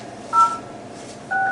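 Two telephone keypad DTMF tones sound while a conference call number is dialed, each a clean steady dual beep about a quarter second long, separated by a pause and heard alone, without voices.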